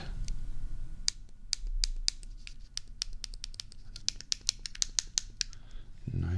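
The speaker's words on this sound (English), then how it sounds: "let's see how the buttons and D-pad sound" Buttons and D-pad on a Playdate handheld game console click in a quick, irregular series of crisp, close taps, bunching faster toward the end, with no talking.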